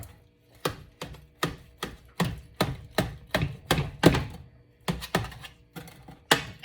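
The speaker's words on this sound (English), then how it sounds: "So I'm just gonna cut it down just to make it a little easier" A knife cuts through keto zucchini lasagna in a dish with about a dozen close, evenly spaced chopping thunks, each firm strike fading quickly, with a brief pause partway through.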